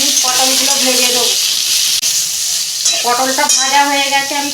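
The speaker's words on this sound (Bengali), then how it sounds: "দু মিনিট পটলগুলো ভেজে দেবো।" Pointed gourd (potol) pieces, with two pieces of brinjal, fry in oil, giving a loud, bubbling sizzle with stirring noises, partly under talk.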